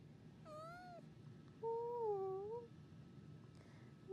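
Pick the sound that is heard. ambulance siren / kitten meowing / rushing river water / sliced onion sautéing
kitten meowing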